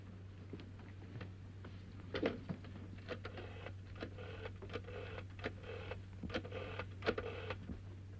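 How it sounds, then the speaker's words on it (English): An old telephone being dialed in a classic film, heard as bursts of faint mechanical clicking in an irregular rhythm over a steady low hum, with no voices. "Will you ring up Whitehall 1212? May I use your phone?"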